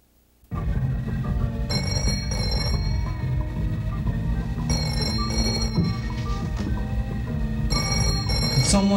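A telephone rings repeatedly over a steady, busy background: bright bell-like tones come in bursts, loud and close, with the ambient noise continuing between them.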